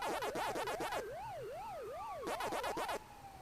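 Wailing emergency sirens in the background, rising and falling in a fast yelp and then a slower sweeping wail, fairly faint and distant, with no talk over them.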